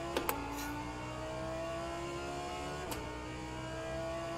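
Steady engine drone of an Audi GT3 race car in rFactor 2, a sustained whining tone that shifts slightly in pitch, with a couple of sharp clicks at the start and one midway.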